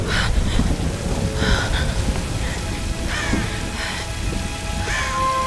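Rain falling in the game Tomb Raider Definitive Edition, a steady moderate patter with soft rumbles and a few brief bird-like calls over it, continuous throughout.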